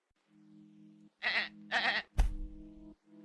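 Two bleats from a sheep in a 3D game environment, loud and close in quick succession over a low steady hum, followed by a sharp bang-like burst.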